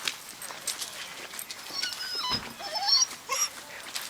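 Dogs whimpering and whining in short high-pitched cries, with scrabbling and clicking movement close by.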